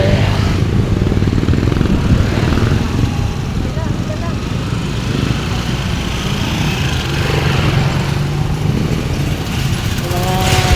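Motorized tricycle and motorcycle engines pass close by on a street in Cavite at night, a loud continuous buzzing drone that swells and fades, with people talking over the traffic.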